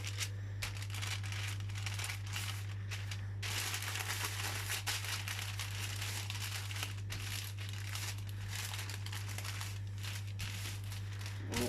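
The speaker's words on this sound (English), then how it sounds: "2 sheets of baking paper." Two sheets of baking paper crinkle and rustle as they are handled and flattened for a homemade kebab, a continuous close papery crackling with short pauses, heard alone without talk.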